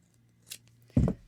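Scissors cut a strand of yarn for a doll's hair, a faint snip followed by a sharper, louder close cut, heard alone in a quiet room.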